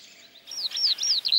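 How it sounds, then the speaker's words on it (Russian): A skylark pours out high, rippling warbles in quick, liquid phrases, bright and continuous over a quiet background. "А вот как звучит голос жаворонка."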